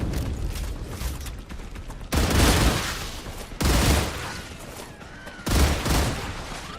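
Weapon fire in the video game StarRupture, three loud bursts of rapid gunfire separated by quieter stretches of rumbling background noise, with no talk over them.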